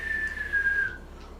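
A voice imitates a firework whistle in a tabletop fantasy game, a single thin whistle held level and sliding slightly downward for about a second before fading, fairly quiet.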